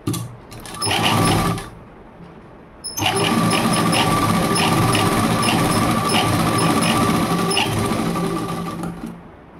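A sewing machine stitching a seam on a prince-cut blouse: a short whirring burst, a brief pause, then a long, steady, loud run of rapid mechanical stitching.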